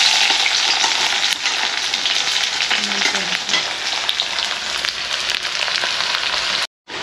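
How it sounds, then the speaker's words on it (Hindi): Chopped onions hit hot oil for an Indian jackfruit gravy, giving a loud, steady, close sizzle with light stirring throughout and no talking. "तो तेल गर्म हो चुका है, अभी प्याज डाल देंगे"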